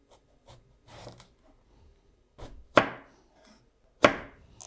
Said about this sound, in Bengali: বেগুনগুলো আমি পাতলা পাতলা করে কেটে নিব